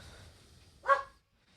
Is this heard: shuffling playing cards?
no